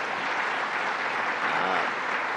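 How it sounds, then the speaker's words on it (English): An audience at a governor's public announcement in Syracuse gives a round of applause, with dense, even clapping close by and at full volume through the whole short stretch. "So let's give a round of applause to Rob Simpson."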